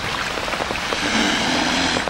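Rain pours down steadily as a dense, even hiss of drops, loud and close throughout the short stretch with no voices.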